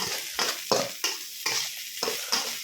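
Duck egg fried rice with soy sauce being stir-fried in a hot pan, a loud close sizzle with quick rhythmic scoops and tosses roughly every third of a second, no voices.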